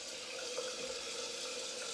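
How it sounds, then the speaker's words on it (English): Cold water runs steadily from a tap into a sink as a face is rinsed after a shave, a continuous close splashing hiss with no talk. "let us rinse with a bit of cold water"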